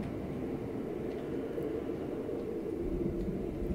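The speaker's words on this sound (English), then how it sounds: "That storm is really roaring." A snowstorm in Project Zomboid roars as a continuous low wind rumble, steady and moderately quiet, with a few faint ticks and no voices.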